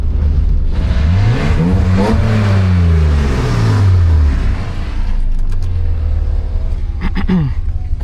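A BMW E36 328i engine revs hard while drifting, its pitch sweeping up and down in loud, close surges with a steady drone throughout and a couple of sharp clicks near the end.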